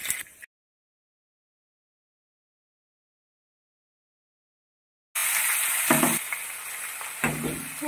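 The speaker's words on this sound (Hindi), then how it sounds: "इस तरीके से छौंक कड़क जाएगा" Garlic tempering for bottle gourd sizzles in hot oil, a close, steady frying hiss with scraping stirs, heard in a short burst, then a long silent gap, then sizzling again for the last few seconds.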